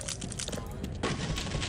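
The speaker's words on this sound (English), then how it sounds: "So we can just shoot the laser," Gunfire and a sharp explosive burst from a shot laser tripmine in Half-Life, dense loud shots running throughout with a heavier blast near the middle.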